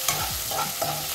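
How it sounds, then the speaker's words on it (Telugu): Ginger pieces, garlic and green chillies frying in a pan, a steady broadband sizzle with a couple of scraping stir strokes over about a second, close and moderately loud. "అల్లం ముక్కలు, పచ్చిమిరపకాయలు వేసి కొంచెంసేపు వేయాలి."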